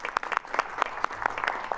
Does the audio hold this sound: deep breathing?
no